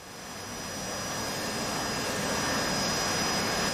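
Harrier jet aircraft engine in a military video game, a loud steady roar that swells slightly at the start and then holds at a constant level.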